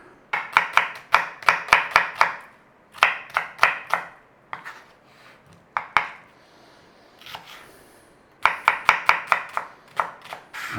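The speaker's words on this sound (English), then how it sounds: "We want some diced onion." A knife dices small onions on a chopping board in quick rhythmic bursts of sharp taps, pausing briefly between runs, close and clear with no talking.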